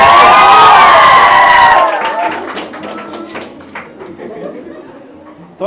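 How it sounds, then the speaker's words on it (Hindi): An audience at a cultural programme and talent award ceremony bursts into loud cheering and shouting for a top exam scorer, then settles into lighter scattered clapping that fades. "जोरदार तालियों के साथ इसका स्वागत किया जाए।"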